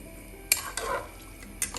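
A spoon stirs a wild-herb broth in a pot, giving a few sharp metallic clinks against the rim and a soft scraping swirl between them, close and fairly quiet.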